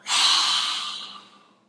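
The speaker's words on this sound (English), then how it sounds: "Deep breath in, and exhale" A deep exhale during a yoga flow, one long, close, breathy rush of air that starts strong and fades out gradually over more than a second, heard alone.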